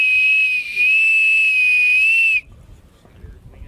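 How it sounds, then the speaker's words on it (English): A homemade elder wood whistle is blown in one long, clear high-pitched note with a breathy edge, close up, then stops abruptly, leaving quiet room noise. "A whistle."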